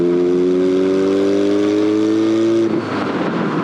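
Street legal Goblin go-kart engine revving hard through homemade sport bike exhaust tips, a loud steady rising drone that cuts off abruptly into rough, close engine and wind noise.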